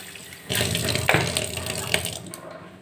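Tap water splashes steadily into a sink while a very dirty mixer grinder jar is rinsed, a loud, close gush starting abruptly and running for about two seconds before easing off.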